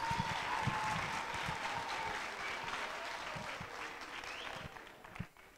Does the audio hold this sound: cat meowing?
no